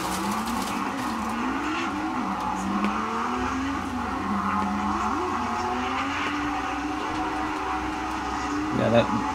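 Drift cars run tandem in final battles, engines wailing and rising and falling through gear changes, with tire squeal and rumble at moderate distance, and voices talking over the noise.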